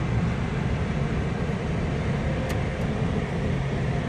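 Inside a car travelling on a Sunday morning drive, steady road and engine rumble with tyre noise holds constant throughout, with a faint brief tick partway through and no talking.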